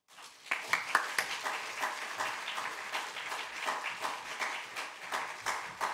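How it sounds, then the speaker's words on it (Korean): An audience claps at a university chapel worship service, a dense patter of many hands with sharper individual claps standing out, fairly close and steady for several seconds. "총회장님 나오실 적에 한 번 더 크게 박수하겠습니다."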